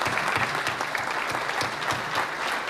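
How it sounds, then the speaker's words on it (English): An audience at a town business appreciation breakfast gives a round of applause, a steady patter of many hands clapping close by with no speech over it. "So I just want to thank them and give them a round of applause."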